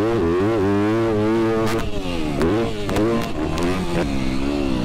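A Triumph TF250-X dirt bike engine revs steadily while riding, loud and close, its pitch rising and falling through several throttle changes with brief sharp clicks and no talk.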